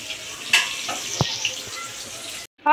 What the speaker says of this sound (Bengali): আলুগুলো আমি অল্প করে ভেজে তুলে নেব।